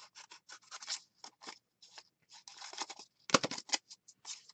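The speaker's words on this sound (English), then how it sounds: "So we're just going to kind of cut this out." Scissors snip through paper for a junk journal in a quick, irregular run of close, crisp cuts and rustles, with short pauses between bursts.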